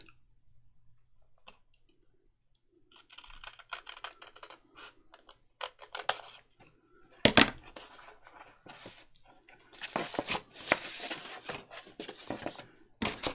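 Scissors snip through sheets from a 12x12-inch paper pad during paper crafting: sharp, close clicking cuts in irregular bursts over a quiet room, busier toward the end, with no talking.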